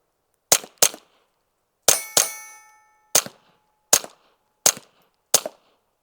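A Retay Arms RXP 22 rifle firing CCI Suppressor subsonic rounds, about 970 fps: seven sharp, clean cracks with metallic ringing, two close pairs then evenly spaced single shots, each separated by silence.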